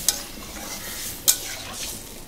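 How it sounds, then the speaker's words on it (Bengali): Fish curry with potatoes and vegetable stems boiling in a covered pot, giving a steady, soft bubbling hiss broken by two sharp metallic clinks. "এই যে দেখো ফুটে উঠেছে"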